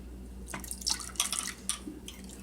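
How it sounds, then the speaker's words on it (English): Buttermilk is poured into a bowl in a home kitchen, giving a few short close splashy bursts and drips over a faint steady background hum. "And then I'm going to pour a little buttermilk"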